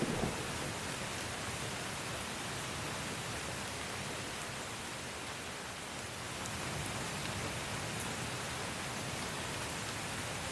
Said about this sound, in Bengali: এত প্রচন্ড ঝড় বৃষ্টির দিনে আপনি এখানে আসতে গেলেন কেন